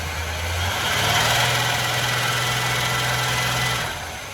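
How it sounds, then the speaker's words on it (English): The engine of a 1981 GMC Sierra truck, known to have a noisy lifter, runs loud and close with a steady drone that rises briefly as it is revved, then drops back toward idle near the end. "Let's rev it up."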